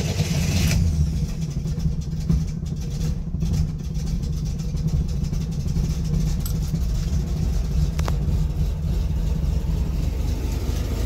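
A Chevrolet Corvair with an idle issue starts and runs, its engine holding a steady, loud, low rumbling idle close to the microphone for the whole stretch, with no talking.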